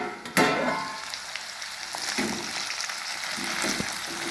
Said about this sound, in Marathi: 2 मिनिटात लगेच तेलात शिजते बटाटे